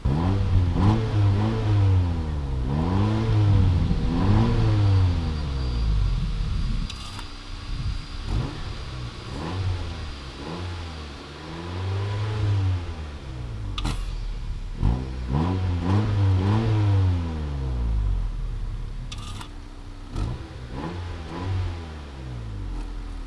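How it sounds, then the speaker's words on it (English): A Honda Civic fitted with valved mufflers revs repeatedly, first with the valves open and then closed, producing a series of loud, close rising and falling engine roars with short pauses between them. "I'm going to rev it a couple times with the valves wide open, then I'm going to shut them off and rev it a couple times with the valves closed"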